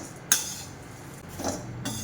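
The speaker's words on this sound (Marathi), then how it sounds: "त्यामुळे आपण प्रथम अशा प्रकारे हळद आणि तेल घालून भाजून घेणार आहोत." Poha being roasted with turmeric and oil in a pan, a sharp metallic clink at the start followed by soft scraping and stirring, with a second faint clatter later; no speech.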